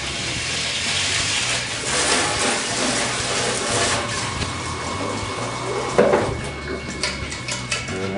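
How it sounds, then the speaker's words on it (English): Running water from a tap splashes steadily while a plastic wine thief is rinsed, with clinks and knocks of equipment in a home winemaking setup, including one sharper clatter partway through. "rinse off our wine thief"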